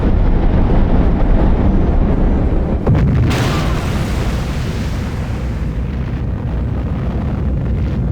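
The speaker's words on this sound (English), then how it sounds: "This might be the first time I've ever used a nuclear missile." A nuclear missile detonates in the strategy game Civilization V, a loud, continuous roaring blast with a sharper burst near the middle, dense and sustained, with no voices.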